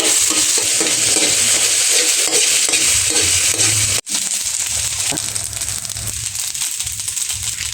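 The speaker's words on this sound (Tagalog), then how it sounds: "Ayan bawang, sibuyas. Halu-haluin lang natin." Garlic and onion sautéing in a pan, a loud close sizzle with constant stirring and scraping, broken by one abrupt pause before the frying resumes.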